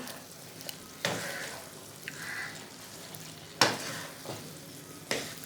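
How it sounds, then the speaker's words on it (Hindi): Lotus root and potatoes get stirred in a kadhai, with a steady sizzle of frying and several sharp scraping strokes of the spoon against the pan at irregular intervals. "इसे अच्छे से मिक्स कर लेंगे।"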